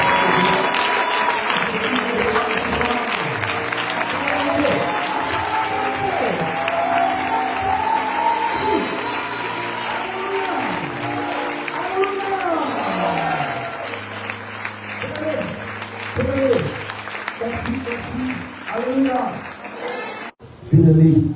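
A church congregation at a Harriste youth prayer gathering in Côte d'Ivoire claps and cheers for Jesus, sustained loud applause with voices shouting and singing over it for about twenty seconds, ending abruptly.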